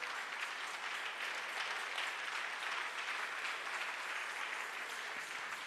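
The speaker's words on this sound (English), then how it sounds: "Are you sure you want to honor the Lord with that hand clap?" A congregation claps hands during a church service, a continuous, moderately distant patter of many hands that holds steady without pause or speech on top.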